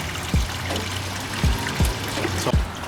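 Coolant streams and drips out of the worn radiator of a 130,000-mile BMW onto the engine bay, a steady close trickle broken by several heavier splashing drops.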